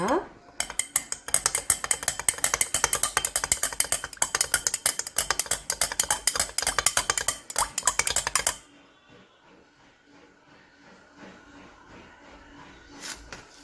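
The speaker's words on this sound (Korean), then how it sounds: "한쪽에는 우리 비타민 B군의 결합체죠 액티바이즈를 넣어서 제가 저어 보도록 하겠습니다" A spoon stirs a vitamin B supplement into coffee, producing a rapid run of close, bright metallic clinks against the cup for about eight seconds before it stops, leaving faint room noise and a final light tap.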